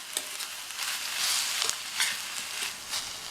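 Drumstick leaves sauté in a pan with a steady close sizzle, broken by short scrapes and stirring clicks of a spatula at irregular moments throughout.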